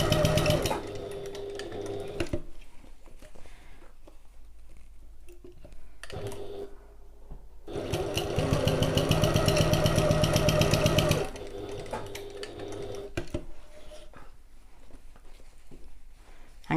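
A domestic sewing machine runs along a bag seam on a satchel, stitching close on either side: a short motor burst at the start, then a longer, louder steady run midway, with quiet handling between.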